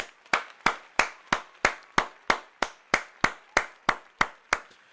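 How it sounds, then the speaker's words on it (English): Single hand claps ring out one after another, about fourteen in a slow, steady rhythm, close and crisp, each a sharp smack with a short fade, during a talk about a tabletop miniatures game; no voices are heard. "Round of applause."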